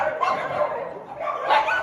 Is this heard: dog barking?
yes